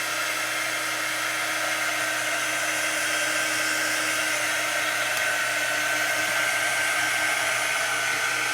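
A hair dryer runs steadily at close range, drying a chalk transfer on a Halloween craft project with a constant, unbroken blowing whine and no pauses.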